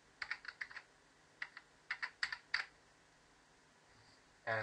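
Keystrokes on a computer keyboard as a terminal command is entered on Xubuntu 14.04, arriving in short quick bursts of separate close, faint clicks with pauses between them, ending on a louder clunk.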